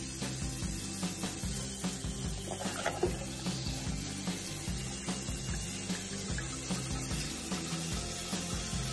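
Water pours steadily into a cooking pot for a simple provincial sinigang of pork bones with taro, a continuous hiss running throughout against a low tonal background.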